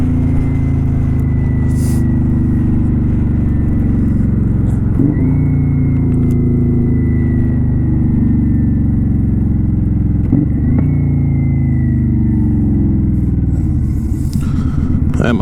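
A 2018 Kawasaki Vulcan 900 Custom motorcycle engine rumbles steadily up close, pulling through gears with two brief dips at shifts before revving on, no talk over it.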